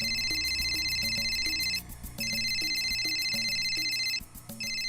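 Telephone ringing in a Bhojpuri drama scene, a repeating electronic ringtone pattern in two bursts separated by short gaps, clear and steady with no talk over it.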